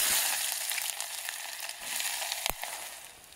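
Sliced onion hits a pan of frying paneer at a forest campsite, and a steady, close, loud sizzle crackles throughout, with a brief sharper burst of spitting midway.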